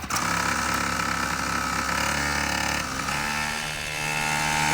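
Engine of a saw blade monster truck fitted with a new carburetor, running loud and steady at high revs, a dense buzzing drone that dips slightly near the end.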